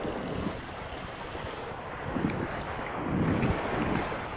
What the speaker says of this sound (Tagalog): Tingnan yung alon guys.